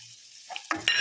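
Cinnamon, cloves, cardamom and bay leaf drop into hot oil in a pan, silent at first, then sizzling and crackling with a few sharp pops that build toward the end.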